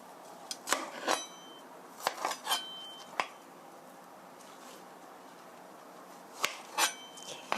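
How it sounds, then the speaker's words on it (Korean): A knife slices broccoli on a cutting board, giving a handful of crisp cuts and clicks in two short bursts separated by a quiet pause. "먼저 브로콜리는 윗부분은 이렇게 잘라 주시고요."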